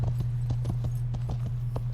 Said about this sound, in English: Go for a nice lope around.